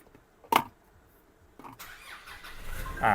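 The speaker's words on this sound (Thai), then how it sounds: "สภาพเครื่องยนต์นะครับ สตาร์ททีเดียวติดเลยนะครับ" A 2020 Nissan Navara Black Edition 2.5EL pickup started by push button: a brief starter whirr, then the engine catches on the first try and settles into a steady, building idle, close by with no talking.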